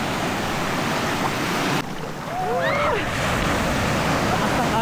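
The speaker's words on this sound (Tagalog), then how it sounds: "Ang alon, grabe." Ocean waves crash on a rocky New Zealand shore, a loud, continuous roar of surf with a brief dip mid-way, and faint higher whistling tones in the background.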